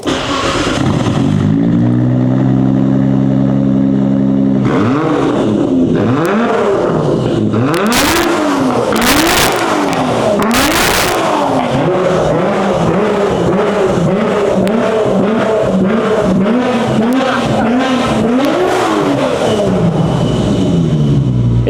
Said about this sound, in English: can you start it up and give us a couple of revs?